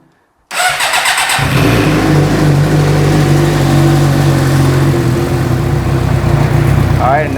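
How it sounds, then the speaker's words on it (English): A motorcycle engine fires up and settles into a loud, steady idle that continues throughout, close and uninterrupted during carburetor synchronization. "So now you just turn on your bike."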